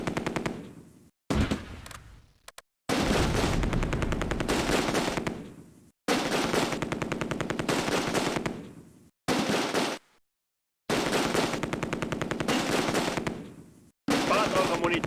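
Machine gun team firing in the WWII video game Close Combat: A Bridge Too Far, long loud rattling bursts separated by short silences, repeated several times.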